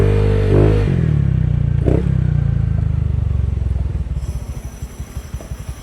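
A motorcycle fitted with a dry clutch revs and then settles to a loud, close idle with a rapid rhythmic clatter. The pulsing rattle grows more distinct as the engine note slows toward the end.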